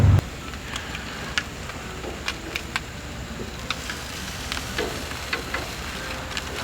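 Slices of Spam or Treet canned meat fry in a pan with a steady, soft sizzle broken by scattered small crackles and pops, heard close with no talking.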